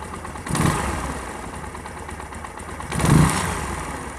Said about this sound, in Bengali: তো ইঞ্জিনের সাউন্ড শুনুন।